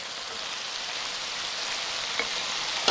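Chicken and mushrooms frying in a pot while being stirred, giving a steady broadband sizzle with a faint clink near the end.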